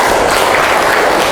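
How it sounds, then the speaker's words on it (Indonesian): Dense, steady clapping from a classroom audience of students, a continuous even wash of many hands sustained at full loudness throughout. "Tepuk tangan untuk kita semuanya"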